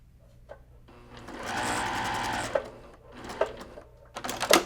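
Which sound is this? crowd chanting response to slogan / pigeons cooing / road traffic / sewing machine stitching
sewing machine stitching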